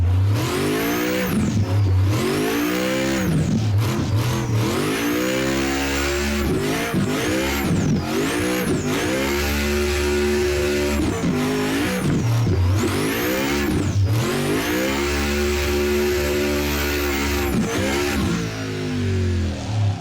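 A car drifting in a racing video game, fitted with a 4-speed gearbox: the engine revs hard, rising and dropping again and again with gear changes, and tires squeal between the surges. It stays loud and close, with no talking.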